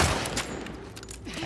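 Rapid gunfire from a gun in The Last of Us Part II, a short burst of repeated loud shots in quick succession.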